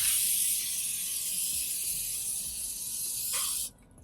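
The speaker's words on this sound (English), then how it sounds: "we're gonna spray this on ourselves" Insect repellent sprayed from an aerosol can outdoors in nature, a loud steady hiss lasting several seconds close by before cutting off abruptly.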